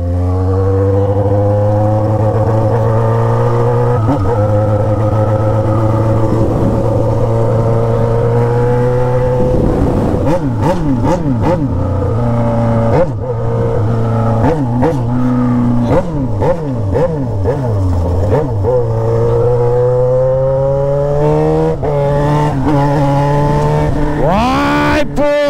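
A Yamaha XJ6 motorcycle fitted with an Atalla three-inch exhaust pipe, slightly rough when decelerating, idles loudly up close, then is revved repeatedly in sharp bursts that climb and fall back.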